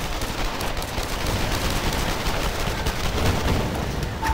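Dense, continuous gunfire and explosions from a Tomb Raider multiplayer match, a steady broadband barrage of shots and blasts with no pauses, loud throughout and no talking.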